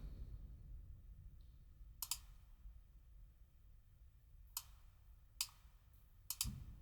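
A computer mouse clicks several times in a quiet room: isolated sharp ticks near 2, 4.5, 5.4 and 6.3 seconds, faint and close, with no talking.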